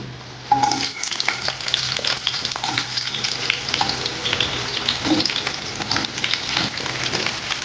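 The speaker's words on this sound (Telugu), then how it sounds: "ఇందులో మనం సన్నగా తరిగి పెట్టుకున్న ఈ ఉల్లిపాయలు వేసేద్దాం" Finely chopped onions dropped into about two tablespoons of hot oil in a pan burst into sudden crackling, then settle into a busy, close sizzle with scattered pops and no speech.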